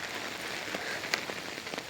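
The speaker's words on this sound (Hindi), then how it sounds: "इतनी ज़ोर की बारिश लगी हुई ना" Heavy rain falling outdoors, a steady close hiss of drops pattering on surfaces with occasional sharper splashes, fairly quiet overall and with no voices.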